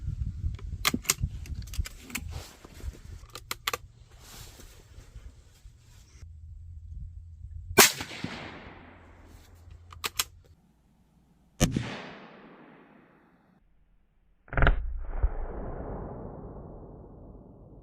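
Shots from a .17 HMR rifle firing CCI A17 Gamepoint and FMJ rounds into ballistic gel at 50 and 100 yards: a few sharp cracks spread seconds apart, each trailing off in a rumbling decay, with quieter outdoor noise between them.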